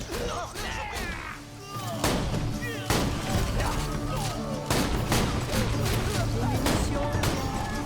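Rapid gunfire from a Borderlands 2 video game, with dense bursts of shots and impacts layered over game music and effects, loud and continuous throughout.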